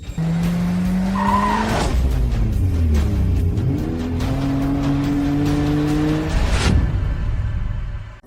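A car driving and skidding with loud, repeated tire squeals over a revving engine during a racing-style tire-change challenge, close and continuous for several seconds before cutting off.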